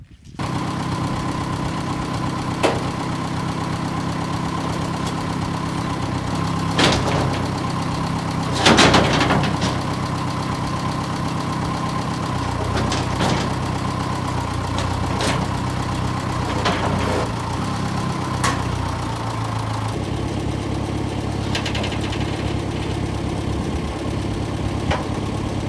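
A Massey 1800 loader tractor engine idles steadily for the whole stretch, a continuous low rumbling drone with a faint knocking rhythm, close by and alone apart from a few clanks and knocks.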